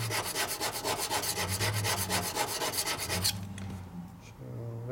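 Gasket material is scraped off a Harley shovelhead cylinder head with a fast, rhythmic rasping of quick back-and-forth strokes for about three seconds, then a quieter, smoother rub.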